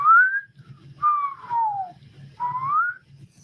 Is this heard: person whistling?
yes